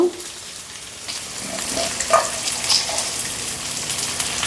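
Ponnaganti greens with moong dal curry go into a hot pan, producing a continuous close frying hiss with a few soft stirring clinks.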